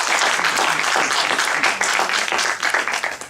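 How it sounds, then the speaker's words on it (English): An audience at a formal event on humanitarian values breaks into sustained applause, a dense wash of clapping that holds steady before starting to taper off at the end. "I think she deserves a full round of applause."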